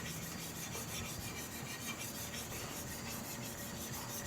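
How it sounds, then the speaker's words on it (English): A big metal cleaver is pressed and rubbed across the surface of a black Arkansas sharpening stone, making a continuous, soft, gritty scraping in steady back-and-forth strokes. "now what we're going to do is burnish this stone. I use a big cleaver"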